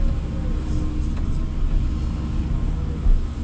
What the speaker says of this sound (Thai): ก็มีรถไถมาช่วยปรับ